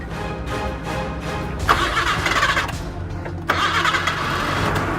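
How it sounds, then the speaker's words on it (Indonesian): A car engine is cranked and catches, with a rough rhythmic cranking that bursts into a louder running roar. It cuts back and then fires again, close and loud. "coba sekarang nyalain mesinnya"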